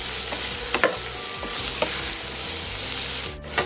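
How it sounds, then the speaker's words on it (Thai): Firm yellow soybean tofu stir-fried with fragrant shiitake mushrooms in a hot pan, a loud continuous sizzle with several sharp spatula scrapes and knocks, no voices. "เราก็จะใส่นี่เป็นเต้าหู้แข็งสีเหลืองนะครับเต้าหู้ถั่วเหลืองนะครับใส่ลงไปผัดเลยครับ"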